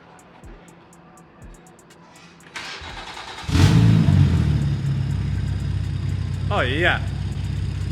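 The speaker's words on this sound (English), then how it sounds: "Just like that, first startup." BMW 340i xDrive with a newly installed top-mount single turbo kit on its first startup: a short crank catches into a loud, steady, rumbling idle that holds, with a brief voice over it.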